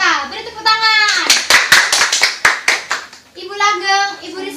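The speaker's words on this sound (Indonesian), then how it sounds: "Beri tepuk tangan." An audience at a curriculum seminar claps to welcome speakers, a burst of sharp, loud hand claps in a quick irregular cluster, framed by a sung or drawn-out voice before and after.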